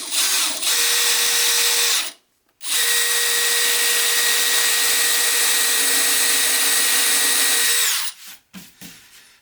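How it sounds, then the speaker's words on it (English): Power drill bores holes into the top of a wooden bookcase, a loud steady whine running several seconds, stopping briefly, then resuming at full speed before winding down with a few soft knocks. "drilling 3 holes in order to screw into the top of this."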